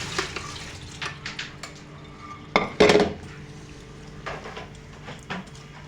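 Water is drained off boiled horse gram: a pot clanks and knocks several times, with a loud clatter midway and a thin trickle of water in between.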